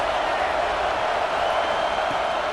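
A stadium crowd roars in the College Football 26 video game, a dense, steady wall of cheering and noise that holds at an even level throughout with no breaks.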